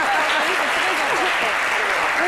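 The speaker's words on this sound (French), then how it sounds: "C'est tout ce qu'on leur réserve comme applaudissement" Applause for winners on a French-language midday television programme, a dense burst of clapping heard under a speaking voice, loud and continuous for a couple of seconds.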